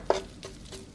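Flour toasts in oil for kachi while being stirred, a soft sizzle carrying three quick scraping strokes up close.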